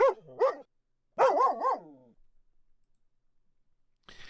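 A human voice imitates a dog for a game sound effect, giving two short barks followed by a rapid run of three or four barking yelps. The sounds are fairly loud and close, then a quiet pause ends in a faint rustle.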